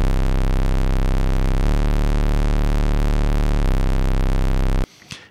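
A SOMA SimplexFM synthesizer plays a bass patch: a loud, sustained, buzzy low drone with dense harmonics that shifts in tone twice, then cuts off abruptly near the end. No voices.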